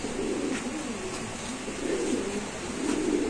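A Spanish Gorgorio Pouter pigeon coos in a steady, throaty rolling pattern, close and continuous, with no talking over it.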